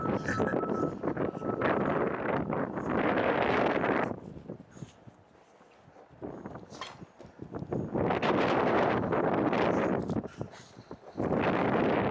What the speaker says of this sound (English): this is about as calm as the wind gets out here